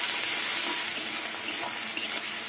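Katla fish and spices sautéing in a pan for a Bengali fish curry with potato and pointed gourd, a steady close sizzle with faint stirring scrapes throughout.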